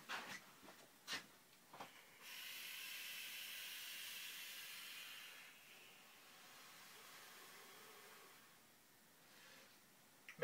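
Live steam model locomotive, an Archon, hissing steam in a steady broadband rush for several seconds after a few sharp pops, easing off then swelling again, fairly close with no talk.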